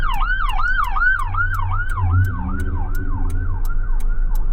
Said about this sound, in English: hopefully whoever needs that ambulance gets the help they need.